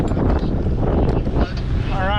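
Strong wind buffeting an outdoor microphone, a steady loud rumble of gusts throughout with a whistling tone rising near the end and no one speaking.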